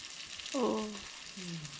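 Savnale fish frying in a home kitchen pan gives a steady, close sizzling hiss, with a short voice sounding briefly over it twice.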